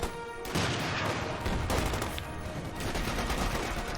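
Rapid gunfire and blasts from a Company of Heroes 2 battle as a bazooka fires at heavy cover, with several sharp bursts at the start followed by a dense, sustained clatter of shots.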